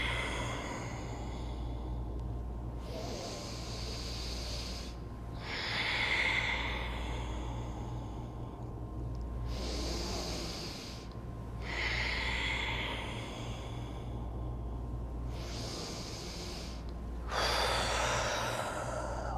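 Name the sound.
yoga breathing, inhaling and exhaling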